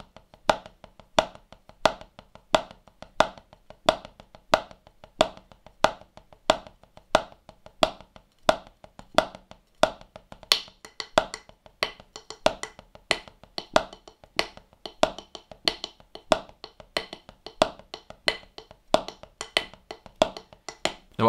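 Paradiddle inversion played on a drum with accents on the first and fifth notes, a steady run of crisp, close sticking strokes repeating evenly for about twenty seconds with no talking.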